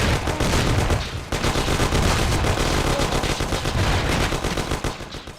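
A shootout in Mafia brings dense, continuous machine-gun and gunshot fire, loud and close, as a rattling barrage with brief dips and no clear speech.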